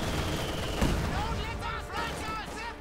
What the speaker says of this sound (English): Further mortar fire there